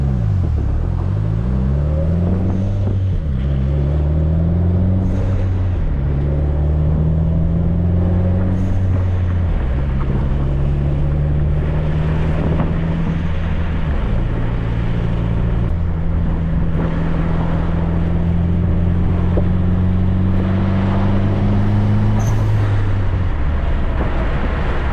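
A Mitsubishi Evo 8 with a Link ECU running rich under boost: a loud, continuous engine drone that rises in pitch through repeated pulls, dropping back briefly between them, with no speech.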